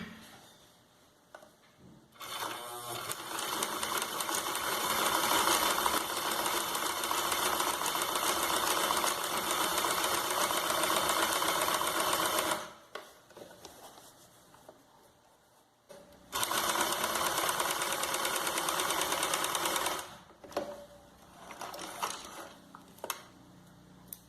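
Sewing machine zigzag stitching a quilted mug rug, running in two long steady bursts of close, even mechanical whirring with a brief pause between them and a few short stops and starts at the end.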